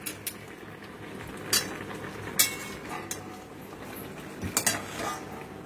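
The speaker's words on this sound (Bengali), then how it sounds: "আচ্ছা, একটু নেড়ে দিই।" Goat meat curry stirred in a cooking pot, with a handful of scattered metallic clinks and scrapes of a spoon against the pot over a low background, close and fairly quiet.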